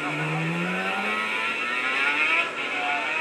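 Two-stroke dirt bike engine, a stock or modded .21 fitted with pipe combos, revving hard and steadily at close range with a rising buzzing pitch and no talk.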